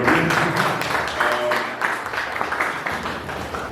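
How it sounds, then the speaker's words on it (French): An audience applauds at an artist-of-the-month showcase event, a steady wash of many hands clapping close by that holds for nearly four seconds, with faint tonal sounds beneath. "je vais me demander tous d'applaudir"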